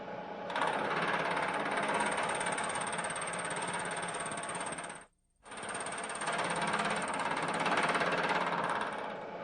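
A milling machine cuts a metal part in a machine shop, a rough, steady grinding chatter that pauses for a moment midway before resuming at the same level, close and loud with no talking.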